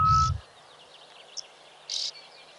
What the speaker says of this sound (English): And it's a black cuckoo.